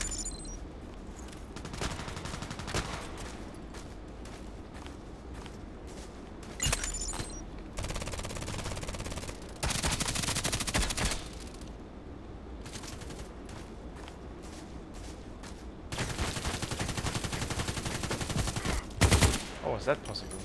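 Machine gun fire in a sniper video game during a contract mission, with repeated loud bursts of rapid automatic shots separated by short pauses, close and dominant throughout.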